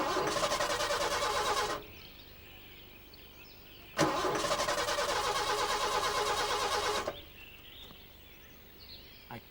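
A breakdown vehicle's engine cranks twice in long, loud bursts of rapid starter chugging, each cutting off abruptly without catching, a quiet pause between them and a faint background after, no voices.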